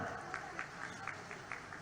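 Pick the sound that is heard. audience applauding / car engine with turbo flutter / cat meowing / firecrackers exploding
audience applauding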